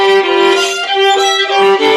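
A violin bowed at full force, harsh and strained, with a loud sustained pitch and a few brief shifts between strokes.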